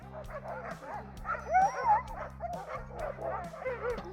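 Sled dogs bark and yip excitedly before a dog sledding run in a Quebec winter, many overlapping voices near and far, with a steady low mechanical hum beneath.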